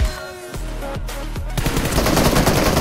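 Rapid automatic gunfire from PUBG Mobile plays during a one-versus-two team deathmatch. Short bursts come first, then a dense, continuous volley of shots, loud and close.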